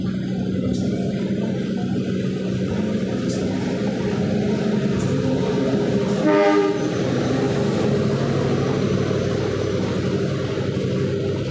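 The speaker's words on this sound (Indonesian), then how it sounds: "kereta api Sancaka Utara yang akan masuk di jalur 6 stasiun Kroya" A passenger train arriving at Kroya station rumbles steadily close by, wheels clattering on the rails, with a brief horn blast midway through the approach.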